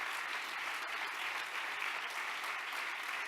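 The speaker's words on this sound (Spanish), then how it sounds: "Dele un buen aplauso de alabanza al Rey de Gloria." A church congregation claps in praise, a dense, even wash of applause that holds steady throughout, heard at a moderate distance without talk.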